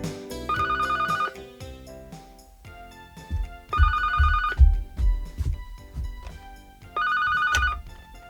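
A telephone rings in three separate bursts of electronic trilling, clear and fairly loud. Music plays softly underneath throughout.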